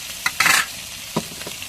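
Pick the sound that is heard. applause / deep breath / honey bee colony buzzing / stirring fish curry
stirring fish curry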